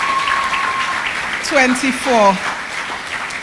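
Applause from the crowd at the 2024 Inter-Secondary Schools Debating Competition finals, a steady broad wash of clapping throughout, with a speaker's voice briefly heard over it.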